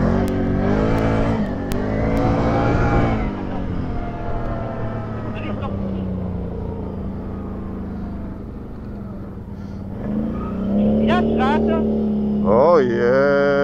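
A Volkswagen Golf drives along with its engine still warm, a low steady rumble and road noise under ongoing conversation, with the engine note rising near the end.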